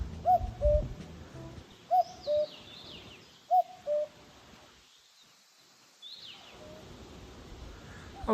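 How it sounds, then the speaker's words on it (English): A cuckoo calls outdoors at an abandoned Scout camp in Kyrgyzstan, giving three clear two-note 'cu-coo' phrases in a slow, even rhythm at moderate distance. Quiet rustling and soft background noise follow. "Never seen a cuckoo bird in real life."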